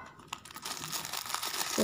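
Paper wrapping from a LOL Surprise Winter Disco toy crinkles and tears close up in a short continuous burst of rustling, growing slightly louder toward the end.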